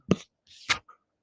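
A single person sneezes in a classroom, a brief two-part burst with a short breathy intake before a sharp release, near and fairly clear in otherwise quiet surroundings.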